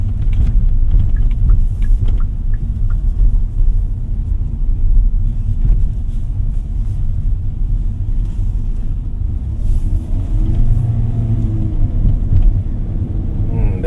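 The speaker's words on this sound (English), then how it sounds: "There's a little bit of a delay in throttle input, and IVT is doing its best to meet the demands of the driver." Hyundai Stargazer X engine pulling under acceleration in sport mode with an IVT transmission, a steady close rumble of engine and road noise inside the cabin, continuous with no talk.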